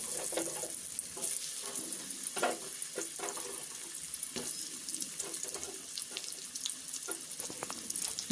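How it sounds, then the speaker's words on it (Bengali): Cut potatoes fry in oil with panch phoron in a pan, giving a steady hissing sizzle with scattered crackles and soft scraping, close and continuous. "এবার এতে দিয়ে দেব কেটে রাখা আলু"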